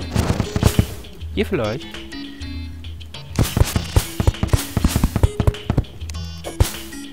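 Rapid bursts of gunfire from shooting in the video game Terraria, sharp repeated cracks and short volleys mixed with other game sound effects, while someone talks briefly over it.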